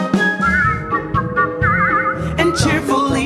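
A performer whistles a bright, wavering melody from a Disney song during a stage show at a falla music festival, with accompanying music underneath.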